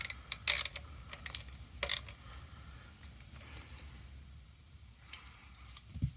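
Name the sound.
tightening a fastener on a gearbox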